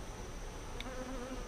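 Bees of a newly established colony living inside a wall, a steady faint insect buzz with a low droning hum running throughout, without any voices.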